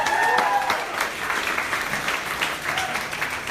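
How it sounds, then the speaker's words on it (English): Audience applause fills a room at a women's network launch party held at Box Austin during SXSW, with steady clapping of moderate loudness and a few faint voices mixed in. "maybe a round of applause for Box Women's Network"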